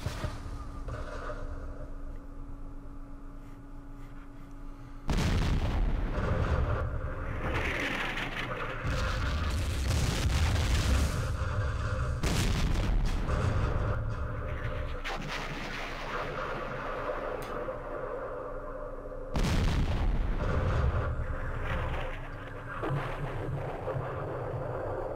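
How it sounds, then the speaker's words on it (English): Mortar rounds exploding in the Vietnam war game Campaign Series Vietnam, Battle of Ia Drang: two heavy, broad booms a few seconds apart over a steady rumbling wind-like background, with no talking. "that was a good hit by the mortars"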